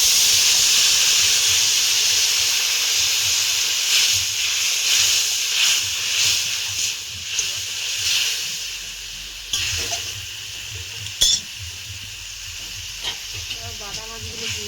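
Tamarind water poured onto spices with Kashmiri chilli powder in a hot pan, setting off a loud, steady hiss of steam and sizzle that slowly settles, with a few clinks near the end.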